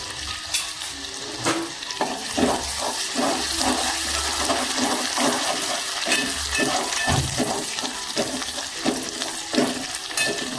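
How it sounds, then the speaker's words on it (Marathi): Garlic sautéing in a pan for ribbon fish curry, a steady sizzle broken by repeated scraping and stirring strokes, close and fairly loud with no talk. "लसूण थोडा आपल्याला परतवायचा आहे"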